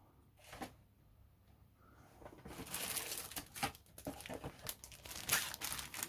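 Plastic bag holding an Eduard 1/48 Mitsubishi A6M2 Zero Type 21 model kit being handled and checked, with crinkling and rustling that starts softly and grows louder and busier, close up, no talking.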